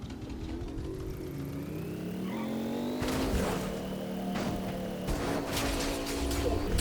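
A car engine in Fortnite drones and revs steadily throughout, rising in pitch, with some sharper knocks and bursts as the car strains while stuck.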